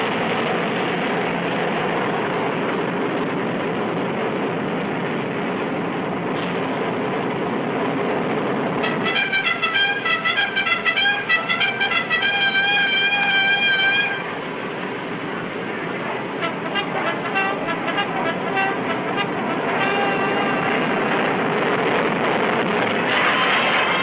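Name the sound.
large aircraft taking off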